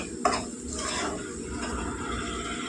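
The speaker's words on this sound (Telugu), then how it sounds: "నేనైతే సిమ్లో పెట్టే వేపుతున్నానండి మెల్లిగా వేగితేనే బాగుంటుంది" A paste of onion, garlic and chilli fries slowly on low heat in a pan with eggs, giving a soft, steady sizzle under a spoon scraping the pan, heard close with no talking.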